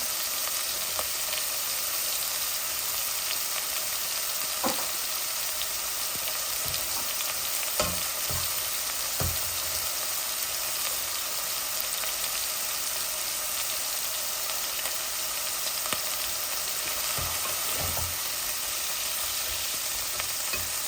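Frozen onions fry steadily in a pan with a loud, unbroken sizzle for the whole stretch, broken now and then by soft scraping clicks of stirring.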